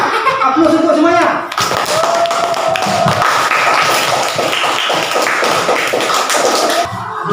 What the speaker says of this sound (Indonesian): Aplaus untuk semuanya.